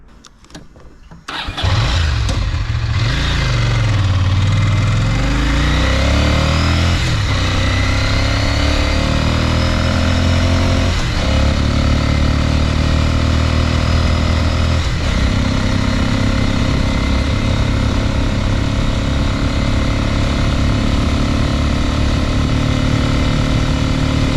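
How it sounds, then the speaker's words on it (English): A motorcycle fitted with an HSU Windslayer accessory, heard at normal road speed as a loud, steady engine drone with rushing wind noise, starting from a brief quiet moment and holding constant throughout. "Now you can hear that there's a reduction with wind noise"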